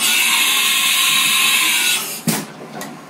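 An end mill in a machine cuts a small bolt to length for a pen, giving a steady high-pitched whine that drops off near the end, followed by a couple of sharp metallic clicks.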